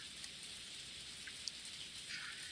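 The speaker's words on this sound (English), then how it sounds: "The rain, that never happened in Higurashi." Steady rain hisses down in the Umineko anime, a dense, even wash of falling water with a few faint drips standing out, with no voices.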